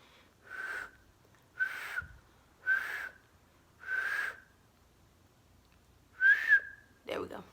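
Someone whistles a series of short, clear single notes nearby, evenly spaced, ending with a wavering note and a soft breathy sound.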